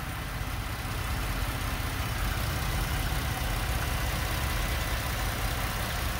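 A 2021 Ford Bronco Badlands with Sasquatch package idles with a steady, dense, even engine rumble, close and continuous with no talk.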